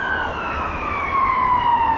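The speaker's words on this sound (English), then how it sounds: "And here's some sirens." Emergency vehicle sirens wail along an Edinburgh street in a Georgian area near Princes Street, a sustained tone slowly falling in pitch over steady traffic rumble, moderately loud and continuous without talk.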